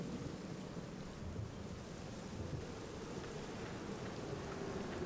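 Steady rain from the point-and-click adventure game Black Mirror, falling at night by a sanatorium's crypt, a dense even wash of downpour with a low rumbling undertone that holds at constant level throughout, with no voices.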